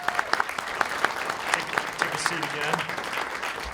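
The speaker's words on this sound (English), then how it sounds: "How about we get a round of applause for our Lantern City Guard legend?" A convention panel audience claps in a scattered, moderately close round of applause, with distinct individual claps and a voice speaking over it.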